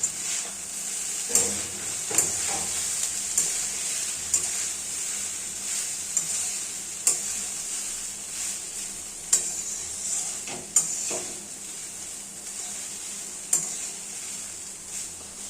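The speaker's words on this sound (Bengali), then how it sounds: "গরম ঘিয়ে ভাতটা একটু মাখামাখি করে নেব।" Rice is stirred and fried in hot ghee for fried rice: a continuous close sizzle broken by regular spatula scrapes and taps against the pan, with no talking.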